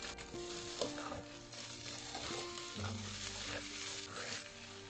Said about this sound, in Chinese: 稍微煎一下再翻动